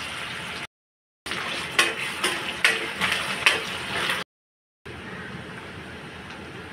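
Chopped onion, curry leaves and green chillies fry in a pan with a soft, steady sizzle, broken by a few louder stirring clatters and brief gaps of silence.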